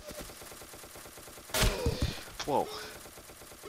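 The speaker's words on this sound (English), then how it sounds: "Where am I getting shot from?" Gunfire in the blocky shooter Ace of Spades: a loud burst of shots and impacts in the middle, then scattered thuds over a steady rhythmic background, with a brief exclaimed voice.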